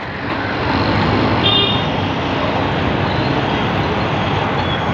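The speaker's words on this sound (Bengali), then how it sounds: "গাড়ি যাওয়া আসা করছে।" Steady road traffic with cars passing on an overpass in busy Bombay, beside a railway line, forming a continuous loud broadband roar with no clear breaks between vehicles.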